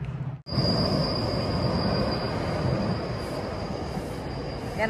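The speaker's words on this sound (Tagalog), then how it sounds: "Yan ang GO train." A GO commuter train passes close by at Rouge National Urban Park, its steady rumble joined by a high, sustained wheel squeal, with no one talking over it.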